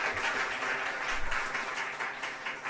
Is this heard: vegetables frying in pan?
no